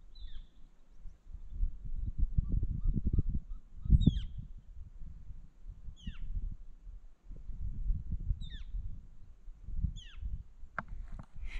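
Scattered bird calls along a desert canyon trail in Saguaro National Park's Bridal Wreath Falls hike, short high chirps repeating every second or two over steady low crunching and rustle, with no talk.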